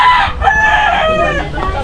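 Chickens cluck and a rooster crows close by at a busy backyard spot crowded with poultry, the calls overlapping in a loud, steady jumble.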